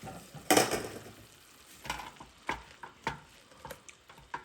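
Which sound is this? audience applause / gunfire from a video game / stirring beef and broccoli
stirring beef and broccoli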